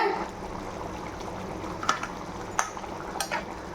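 Kola fish is gently stirred into a simmering garlic curry in a pan, faint bubbling under a few soft spoon clinks and scrapes, quiet and close with no talk.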